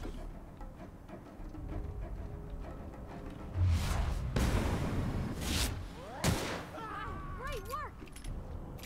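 Gunfire in the video game The Outer Worlds, several loud bursts and sharp cracks over a rumbling game background, with a voice speaking in between.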